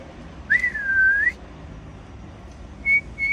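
A person whistles hard while waiting for a train: one long, loud, wavering whistle, then two shorter, thinner whistles a moment later, with no talking.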